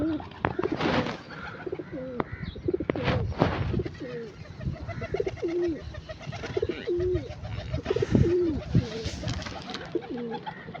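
Several pigeons coo nearby in repeated soft, throaty calls, with occasional wing flutters and a faint voice now and then.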